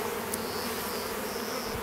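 Close, continuous buzzing of many honey bees, a dense steady drone with no voices.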